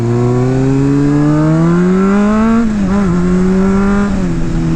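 Car exhaust droning steadily while driving on a mountain road, a loud close engine note rising gradually in pitch with brief dips as the throttle shifts, no talking.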